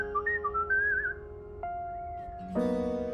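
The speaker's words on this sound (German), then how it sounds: "Da pfeifst schon wieder." A character whistles in the video game Date Everything, a short wavering melodic tune followed by steady held tones, close and clear over a quiet background.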